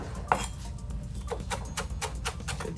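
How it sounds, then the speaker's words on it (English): A knife rough-chops fresh herbs for chimichurri on a cutting board, giving a quick irregular series of soft close taps and knocks with one sharper hit near the start, fairly quiet. "So this is how we're chopping. This is rough chopping."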